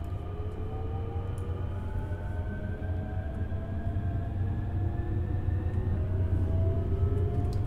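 An SNG Sprinter Nieuwe Generation electric train running in Train Simulator 2021, a steady low rumble and hum with slowly rising whining motor tones, continuous and close, with no voices.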